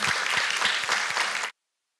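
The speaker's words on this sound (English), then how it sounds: "Let's give him still a round of applause." Audience applause at a school board regular session, a steady burst of clapping from the room lasting about a second and a half before stopping abruptly.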